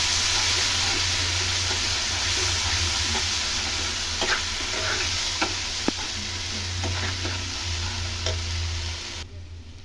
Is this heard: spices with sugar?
yes